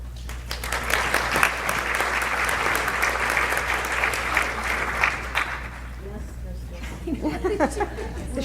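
A conference audience at a behavioral variant FTD breakout session applauds a married couple being welcomed, sustained crowd clapping over a low hum that fades near the end as a voice begins to speak.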